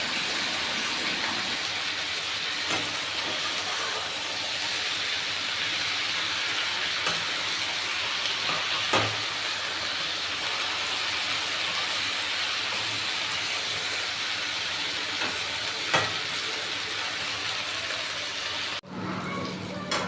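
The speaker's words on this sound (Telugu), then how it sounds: "ఇలా ఆయిల్ పైకి వచ్చేంత వరకు మనం బాగా ఫ్రై చేసుకోవాలి." Chukkakura sorrel greens fry in hot oil in a pan, a steady, loud sizzling hiss sustained for the whole stretch, with a few faint clicks of stirring and a brief cut near the end.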